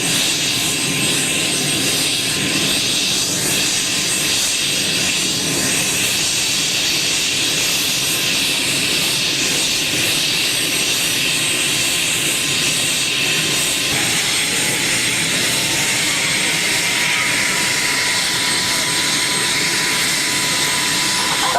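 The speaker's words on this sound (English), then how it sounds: "We have the Jabiru SK, and today it's flown by its pilot, Kevin Pearce." A Jabiru SK light aircraft flying at an air show at Abbeyshrule produces a loud, continuous engine drone that holds steady throughout, with no talk.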